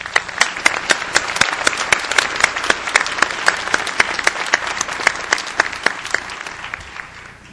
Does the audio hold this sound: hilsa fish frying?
no